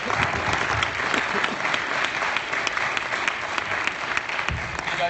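Loud, dense audience applause for a speaker at a forex trading anniversary event, continuous crowd clapping throughout with no pause.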